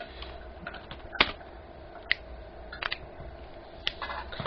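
Scattered keystrokes on a computer keyboard while entering C++ code for a MySQL connection, a few sharp taps spaced irregularly over a quiet room tone.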